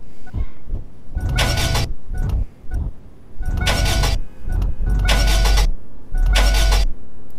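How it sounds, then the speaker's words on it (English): An old beater car's starter cranks repeatedly without the engine firing, in several loud bursts of grinding, whirring turnover separated by short pauses, close by. "See, look, it's just not starting,"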